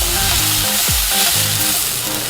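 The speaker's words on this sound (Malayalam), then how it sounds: "തക്കാളി ചെറുതായിട്ട് അരിഞ്ഞത് ചേർത്ത് കൊടുക്കുന്നുണ്ട്. ഇതും കൂടി നല്ലോണം ഒന്ന് വഴറ്റിയെടുക്കണം കേട്ടോ." Chopped tomatoes sautéing in a pan for Kerala-style sardine curry make a loud, close, continuous sizzle, with stirring scrapes breaking through now and then.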